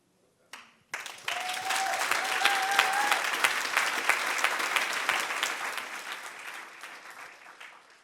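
Audience applause at an event about wrongful conviction and exoneration in Missouri, honoring the Midwest Innocence Project, starts after a brief sound, swells into sustained dense clapping with a faint whistle, then gradually tapers.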